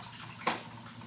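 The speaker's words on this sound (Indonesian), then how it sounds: "Nah, airnya keluar." Water rushing out of a washing machine drain hose, a steady faint hiss and flow with one brief louder gush partway through.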